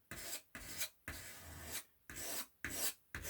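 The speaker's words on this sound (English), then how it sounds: "scrape some of this up so I can get a little bit." Orange paint scraped up from a palette with a knife, a series of six short rasping strokes in an uneven rhythm, quiet and close, with brief silences between them and no voices.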